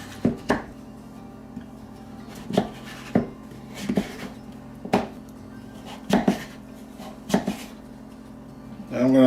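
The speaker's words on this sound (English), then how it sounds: "I'm going to slice everything up" A knife slicing breakfast-casserole ingredients on a cutting board: about a dozen crisp, close knocks of the blade hitting the board, spaced irregularly with short pauses between strokes.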